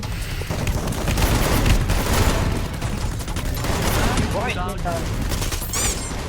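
Gunfire from the battle royale game Free Fire: a steady barrage of shots that stays loud across the whole stretch, with some whooshing effects near the end and excited voices talking over it.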